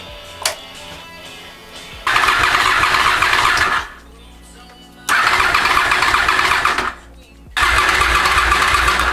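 A Honda VFR 800 motorcycle with 17,000 miles cranks in three loud bursts of whirring starter-motor churning separated by short quiet pauses, with a brief click at the start and a voice in the background.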